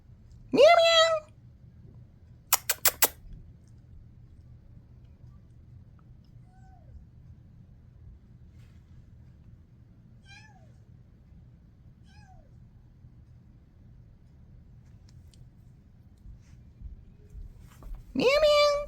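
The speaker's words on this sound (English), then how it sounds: "Just notice when I'm singing, the cat meows." Cat meowing indoors, a few clear meows standing out near and loud against quiet, with a person's voice heard between them.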